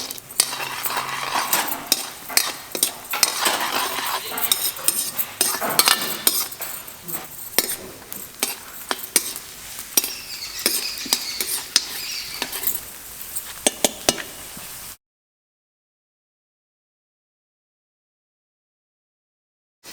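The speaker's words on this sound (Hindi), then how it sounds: "तो मखाने अब कर दिए हैं इसमें फ्राई।" Makhana (fox nuts) frying in a hot kadhai over a wood fire, with a spoon scraping and clinking against the metal amid soft sizzling and pattering, steady for about fifteen seconds before cutting to silence.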